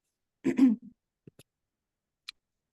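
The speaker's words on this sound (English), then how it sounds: "I am literally dying of a cough" A short burst of throat clearing with a rough cough, followed by a few faint clicks and a small sharp sound, then quiet.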